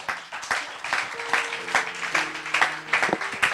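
Church congregation clapping and acclaiming in worship, a rough crowd applause with rhythmic claps, held tones of music or singing running underneath at moderate level.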